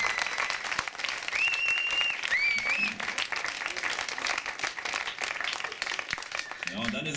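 Festival audience applauding an art exhibition premiere of pictures from the Hambach Forest at a climate event in Aachen, a steady wash of clapping with some whistles, continuing throughout.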